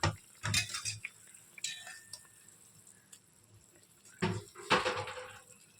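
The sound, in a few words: pot lid opened, pan clatter while cooking eggplant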